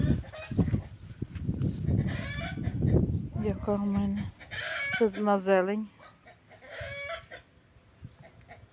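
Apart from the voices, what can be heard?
chickens clucking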